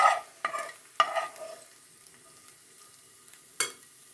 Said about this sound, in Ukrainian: Смажену цибулю додаю до гречки.